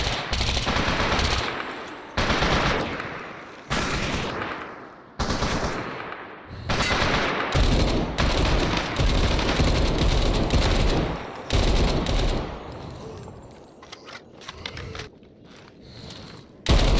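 K-AC Freak personal defense weapon fired in S.T.A.L.K.E.R. with the Zona mod pack, long loud automatic bursts broken by brief pauses, with shorter bursts and single shots trailing off toward the end.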